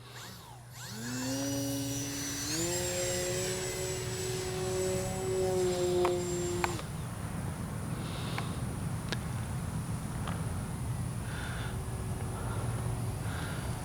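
A Durafly Tundra RC plane flies with its electric motor whining in a rising, steady tone that climbs in pitch, holds, then cuts off, followed by faint outdoor background noise with a few clicks.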